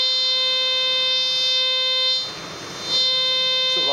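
C.Scope CS440XD non-motion metal detector on a pebble beach at night, sounding a steady, loud electronic tone with even harmonics that briefly dips and turns noisy before resuming, with no talking.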